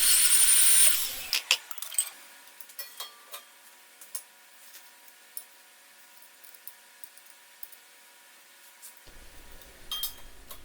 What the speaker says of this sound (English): And I have a little jig, same idea, to cut the miters for the armrests.